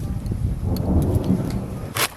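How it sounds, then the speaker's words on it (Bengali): Heavy rain sets in outdoors beside a clay stove, with a deep rumble of thunder rolling underneath the steady patter and a sharper crackle near the end. "বৃষ্টি এসে গেছে"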